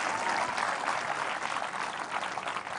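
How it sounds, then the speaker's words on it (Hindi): A studio audience at a cricket talk show applauds with a dense, sustained wash of clapping that stays fairly even and close from start to finish. "आपने सुन लिया किस तरीके से तालियां बजी हैं इस बात पर"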